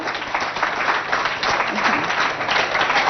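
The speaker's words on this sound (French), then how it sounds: "On applaudit pour nos enseignants, s'il vous plaît." An audience on a school broadcast set applauds the teachers of the Markaz Assalam school in Biltine, steady dense clapping from a crowd, sustained and fairly loud, with some voices underneath.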